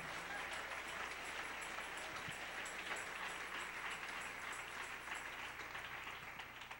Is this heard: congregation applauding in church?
yes